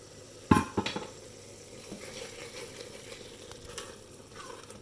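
A tadka of spices in hot oil for dal palak sizzles steadily, opening with a few sharp clinks of a pan or utensil before settling into a soft, continuous frying hiss.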